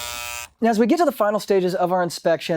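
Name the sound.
aerobic septic system pump tank high-water alarm buzzing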